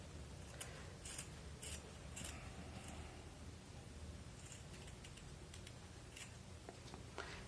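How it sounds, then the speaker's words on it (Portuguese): Scissors snip off excess fabric while a bag is being sewn, giving a series of quiet, crisp cuts in irregular bursts against low background hiss. "eu vou tirar com a tesoura mesmo"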